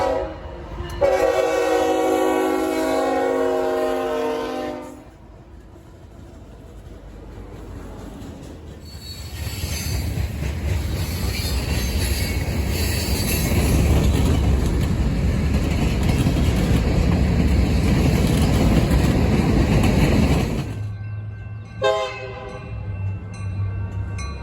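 Model trains run at the Colorado Model Railroad Museum, with a brief horn sounding at the start, then a long rumbling roll of wheels with squealing, and a horn again near the end, close and steady without talk.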